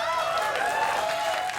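Studio audience at a late-night talk show applauding, a short burst of dense, even clapping close in the room that dips slightly at the very end.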